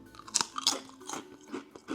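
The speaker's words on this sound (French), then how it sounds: "Et surtout, j'aime les chips croquantes." Big wavy potato crisps are bitten and chewed up close, giving a series of sharp, loud crunches followed by quieter irregular crackling chews, with no talking.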